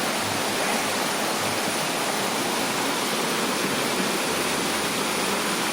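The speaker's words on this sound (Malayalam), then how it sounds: "ചെറിയ വെള്ളച്ചാട്ടമൊക്കെ ആയിട്ട്" A small waterfall on a hillside in Idukki pours in a steady, dense rush of falling water, close and continuous, with no talking.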